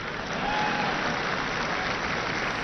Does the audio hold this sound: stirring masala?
no